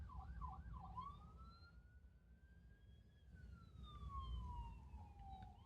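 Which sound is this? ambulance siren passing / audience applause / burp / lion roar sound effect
ambulance siren passing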